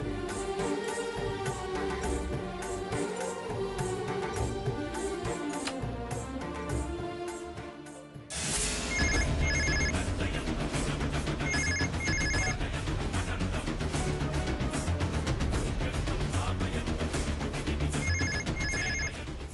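A telephone in a hotel room rings on and off, unanswered, its short repeated trill bursts sitting under continuous loud background music for most of the span.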